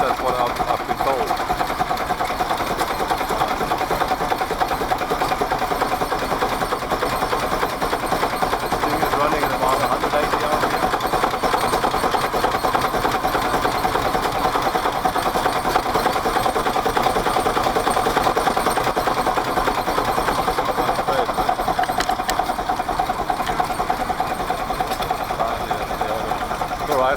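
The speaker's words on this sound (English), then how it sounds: "3C5 boat engine." A vintage 3C5 stationary boat engine runs at the Welland Steam Rally, a steady close mechanical chatter and hum that continues unchanged throughout.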